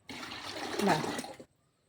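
Fermented groundnut cake water is poured from a container onto the base of a jackfruit tree, making one steady splashing gush for about a second and a half before it stops abruptly.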